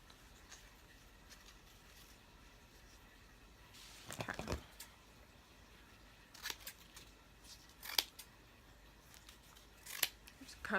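Scissors snip through ribbon for handmade ribbon flowers, several short crisp cuts spaced apart over a quiet room background, close to the mic.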